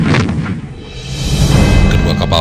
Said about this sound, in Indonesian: RI Macan Tutul dan RI Macan Kumbang melepaskan tembakan dari 2 meriam anti pesawatnya